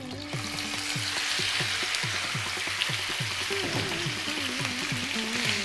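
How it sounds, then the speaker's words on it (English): Lamb or mutton pieces on the bone, with a little fat, sizzle loudly in hot oil, a continuous crackling fry with rhythmic stirring scrapes. "what we're going to do now is we're going to drop in our lamb or mutton"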